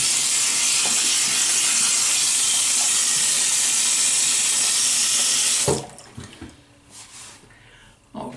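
A bathroom tap runs in a steady, loud broadband rush to wet up before a shave, then cuts off abruptly after about six seconds, leaving faint handling clatter and small knocks.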